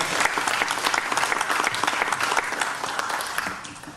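An audience at a retirement security symposium gives a report writer a burst of dense, sustained applause that tapers off at the end.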